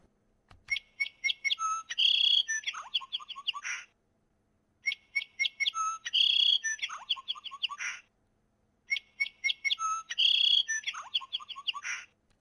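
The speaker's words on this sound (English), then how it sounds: "Number 234, Song Sparrow." A Song Sparrow sings three full songs, each a clear run of sharp introductory notes followed by a buzzy trill and a jumbled chattering finish, separated by short silent gaps, crisp and close.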